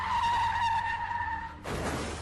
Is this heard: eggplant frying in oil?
no